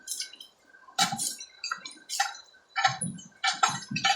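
Water splashes into a big cooking pot holding pechay, potatoes and black pepper, coming as short close sloshing bursts with brief gaps and a faint clink.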